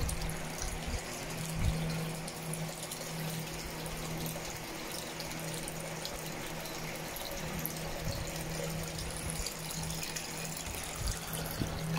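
A small buffet table fountain centerpiece runs water in a steady, soft trickle and gush, with a faint constant pump hum underneath and no talking.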